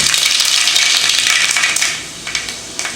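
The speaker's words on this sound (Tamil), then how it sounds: "இப்போ குழம்பு தாளிக்கலாம்." Loud, steady crackling sizzle of fenugreek and mustard seeds frying in hot oil for a green field bean curry, dense and close, easing slightly toward the end with a few sharp pops.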